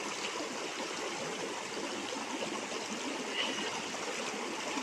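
River water in Theni flows in a steady, continuous rush with soft gurgling throughout, fairly faint and with no talking.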